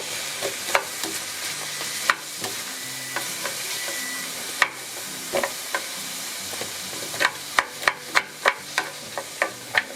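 Peas frying in a pan, a steady sizzle broken by sharp scraping clicks of a utensil stirring, growing into a quick run of taps near the end, close and clear without speech.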